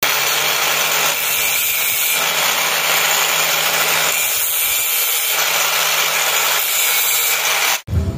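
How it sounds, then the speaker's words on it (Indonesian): A grinder cuts a small valve-adjusting part from a Toyota Kijang 2L diesel engine, a loud continuous abrasive whine that rises and eases in strokes, close up with no talk, cutting off abruptly near the end. "ini kalau kepanjangan ini akan kita potong sedikit dengan menggunakan gerinda"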